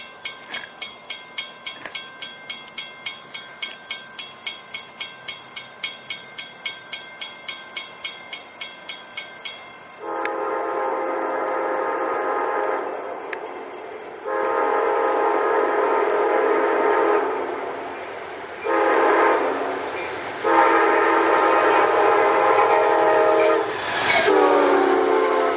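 A train runs past with a steady rhythmic clickety-clack of wheels over rail joints, then a loud horn sounds in several long blasts, close by and with no talk over it.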